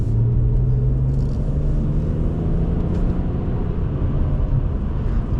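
A 2011 BMW 128i automatic hums along on the road with a steady, low engine drone and rumble from inside the cabin, with road noise beneath and no talking.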